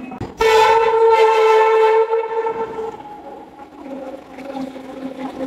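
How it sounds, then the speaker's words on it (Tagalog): A light rail train horn blasts loudly for about two seconds, then a heavy rolling rumble of railcars continues as the LRT train pulls in nearby. "So ito na nga yung train na sasakyan ko papunta ng Cubao Station."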